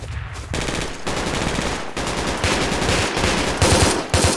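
Rapid automatic gunfire from the tactical shooter game Project Reality, loud and close, with sustained bursts and brief pauses between volleys and no one speaking over it.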